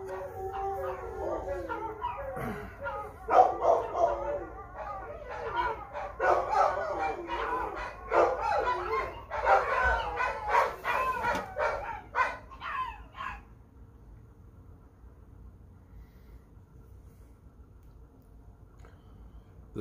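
Several dogs howl and bark in an agitated chorus, set off by sirens, loud for about thirteen seconds and then fading to a quiet background.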